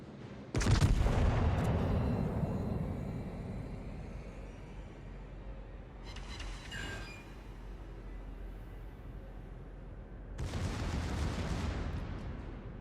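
Naval secondary guns firing in World of Warships, heard as heavy booming salvos with a long rumbling tail, a loud blast at the start, a lighter burst midway and another near the end, with no speech.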